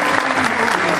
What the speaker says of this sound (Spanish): pido un fuerte aplauso para esta obra